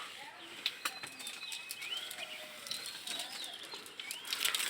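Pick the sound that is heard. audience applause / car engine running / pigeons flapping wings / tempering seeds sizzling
pigeons flapping wings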